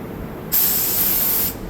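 A loud, steady blast of compressed air hisses from a newly installed air blast line on an old CNC machine, starting abruptly after a quiet moment, holding for about a second, then cutting off.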